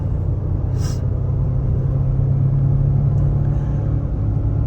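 A Ford Expedition Max with the 3.5 EcoBoost engine pulls out of a corner while towing about 4,500 pounds, giving a steady, loud low engine rumble with road noise throughout.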